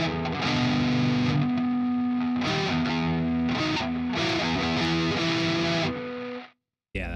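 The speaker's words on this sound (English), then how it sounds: "that's way too much distortion for that" Electric guitar played through a heavy distortion effect, thick sustained chords and notes filling the clip loudly with no talk before cutting off abruptly near the end.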